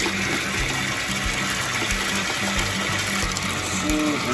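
A portable washing machine for small dishes starts up while filling with hot water, giving a steady loud rush of running water over a low pulsing motor hum that continues unbroken.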